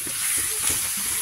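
Milkfish (bangus) frying in a home kitchen, a short burst of steady hissing sizzle close by with faint low rumbles beneath, no speech.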